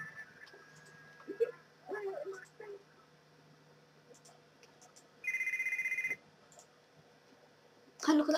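A telephone in the GTA Vice City video game rings with one steady, electronic trill lasting about a second, set against quiet game ambience, faint clicks and a louder burst at the end.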